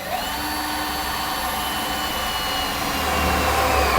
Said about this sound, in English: We'll drill it out.